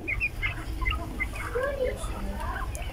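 Several quail call in quick, chirpy bursts over a steady low background hum, with soft clucking notes mixed in throughout.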